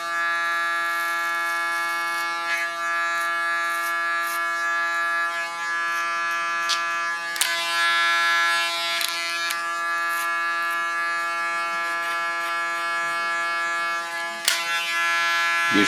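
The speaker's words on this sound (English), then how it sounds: "Use my clipper as a comb." An electric hair clipper cuts a short hairstyle along the neckline: a steady, loud, close mechanical buzz with a strong whine that holds throughout, with a few faint clicks and no talk.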